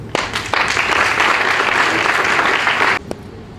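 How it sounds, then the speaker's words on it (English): An audience at a school speech contest applauds a speaker with a dense, loud burst of clapping that holds steady for about three seconds and then cuts off, followed by a couple of stray claps. "Please a round of applause for her."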